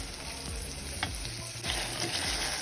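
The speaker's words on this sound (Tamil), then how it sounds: "தக்காளியும் வெங்காயமும் நல்லா வதங்கணும்." Steady close sizzling of tomatoes, onions and bitter gourd frying in hot oil, with occasional soft scraping and stirring noises.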